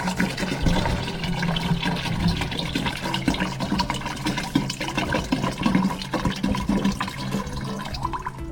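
Water is poured into a container while making ice candy, a continuous splashing, gurgling fill with irregular drips and sloshes at moderate, fairly close volume and no speech.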